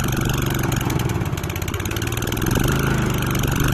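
A Husqvarna AWD lawn mower engine runs just after a pull start on a cold day, with a loud, steady close-up putter and a slight rise in revs near the end.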